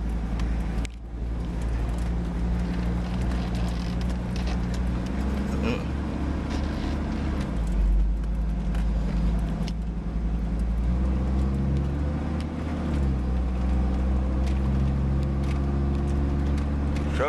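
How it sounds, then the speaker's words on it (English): A V-10 truck hauling hay, its engine droning steadily and loud with a deep low rumble throughout, while people talk over it. "Truck's running good."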